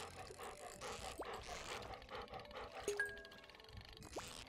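A dog in a Stardew Valley farming game gives soft whimpers and breathy yips over a quiet, busy game soundtrack, with chime-like notes scattered through.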